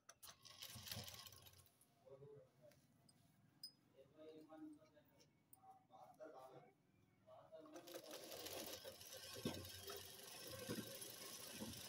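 Sewing machine running a leg seam on a ladies' trouser, close and steady, with a quieter middle stretch, then a louder continuous whir over the final seconds as someone speaks over it.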